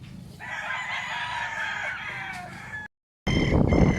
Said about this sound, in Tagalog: Daming manok. Ang sabong.